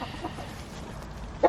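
Chickens cluck faintly at a winter coop in Texas, a low, steady backyard murmur that ends with one brief, louder call.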